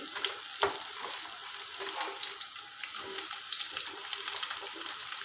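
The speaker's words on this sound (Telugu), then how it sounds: "ఇప్పుడు మనము చిన్నగా కాకరకాయలను వేసుకుంటున్నాం. ఇవంతా ఆయిల్లో బాగా ఫ్రై అవ్వాలి." Bitter gourd pieces fry in hot oil, a continuous crackling sizzle with scattered pops and occasional utensil taps, close and steady, no talking.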